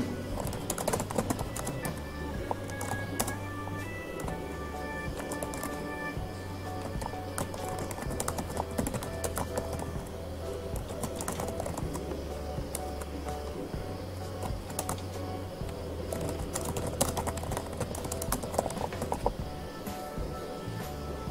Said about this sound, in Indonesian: Jadi kita ketik seperti ini.